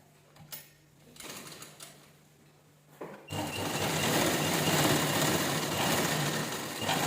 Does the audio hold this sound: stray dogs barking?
no